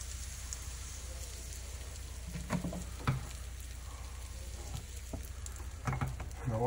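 Crepe batter hits a hot buttered, lightly oiled pan and sizzles, a steady close frying hiss with a few soft clinks and taps from the pan, no talking.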